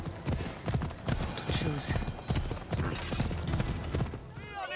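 A horse's hooves clip-clop steadily at close range in the Assassin's Creed Odyssey video game, with a whinny near the end. Game music and a talking voice run over the hoofbeats.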